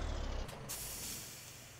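In Farming Simulator 17, a truck pulls to a stop and releases a short, sharp air-brake hiss that fades out quickly after a low engine rumble.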